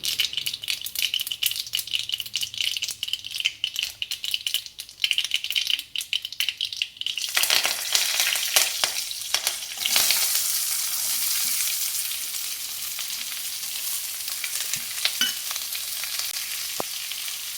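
Large onions and green chillies sizzle in a hot pan with rattling stirs at first, then settle into a steady, loud frying hiss.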